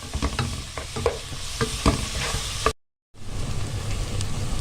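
Onion sizzles loudly as it sautés in a pan, with close stirring clatter over a continuous frying hiss. A brief silent gap breaks the sound before the sizzle resumes.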